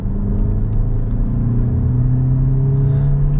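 A Peugeot 3008 with 180 hp accelerating, heard from inside the cabin as a loud, steady engine rumble whose pitch climbs smoothly as the revs rise, with no talking.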